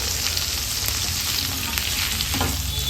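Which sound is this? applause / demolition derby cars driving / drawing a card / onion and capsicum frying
onion and capsicum frying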